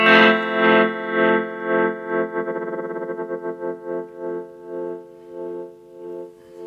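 Electric guitar through an Ibanez TS Mini overdrive, Mooer E-lady flanger and Donner tremolo pedal, holding a distorted chord that pulses rhythmically, speeds into a fast flutter, then slows again as it decays.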